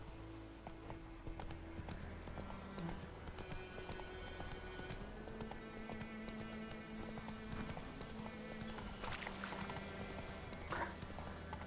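Hooves of Roach, the horse in The Witcher 3: Wild Hunt, clopping in a steady rhythmic gait over game music, moderately loud and continuous throughout.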